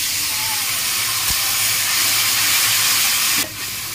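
Spices for a paneer and pea curry frying in a pan just after a little water goes in, a loud continuous hissing sizzle that cuts off sharply near the end, with no talk.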